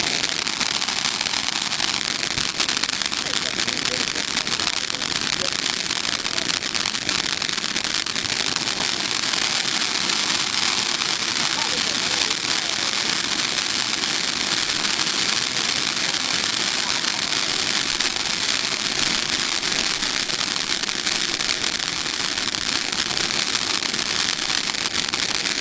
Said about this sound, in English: And that was the Delirium fireworks display.